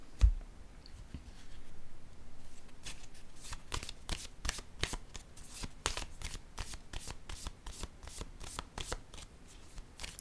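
Tarot cards are handled and shuffled up close, producing a quick series of crisp, fluttering riffle clicks after a few softer slides, all quiet and without talk.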